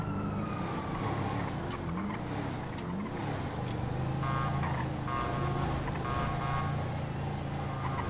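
Police car sirens wailing in the video game GTA 5, several overlapping rising and falling tones over a constant engine and traffic drone, moderately distant.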